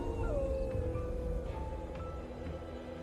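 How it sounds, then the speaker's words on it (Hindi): Several dogs howl together in a drawn-out, mournful wail set in an eerie scene as lights flicker, the cries steady and fairly close over a low rumbling background with no speech. "कुत्ते रोने लगे।"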